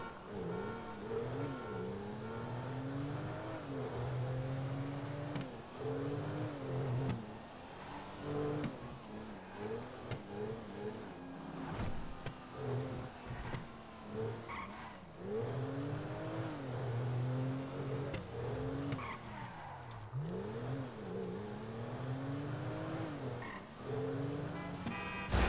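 Engine noise from a car in Grand Theft Auto V, rising and falling revs with repeated accelerations and gear shifts over about twenty-five seconds, steady and close, with brief squeals suggesting tyres skidding.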